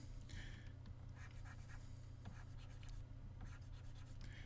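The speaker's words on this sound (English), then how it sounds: "I have to lift the stylus up and keep drawing it." A stylus sketches on a drawing tablet during digital battlemap work, making repeated soft, scratchy strokes in short bursts over a steady low hum.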